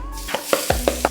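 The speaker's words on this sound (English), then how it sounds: "we are about to hit the wok. Ripping hot, smoking, oil in, ginger and garlic" Ginger and garlic hit ripping hot, smoking oil in a wok, giving a loud close sizzle broken by a few sharp rhythmic scrapes or stirs.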